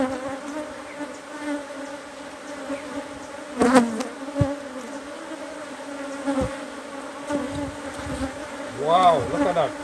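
Honey bees buzz around an opened beehive, a dense continuous drone close by with individual bees swelling louder as they fly past, and occasional handling bumps from the hive work.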